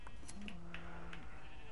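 Sheep in the Minecraft video game give a single wavering bleat, near and fairly clear over a low steady background hum, with no talking.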